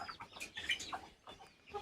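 Guinea fowl kept in a cage give quiet, short clucks and chirpy calls in irregular bursts, faint and close, with brief gaps between the sounds.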